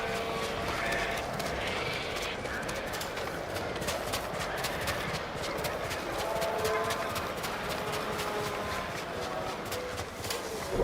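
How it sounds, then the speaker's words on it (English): A horse gallops in the samurai video game Ghost of Tsushima on Iki Island, with rapid, steady hoofbeats running throughout amid game ambience and faint background sounds. "Horse!"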